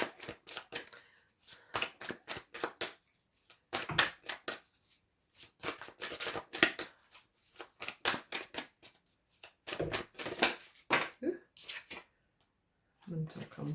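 Tarot cards are shuffled and drawn in rapid, crisp bursts of riffling and flicking, repeating throughout at close range with brief pauses between runs.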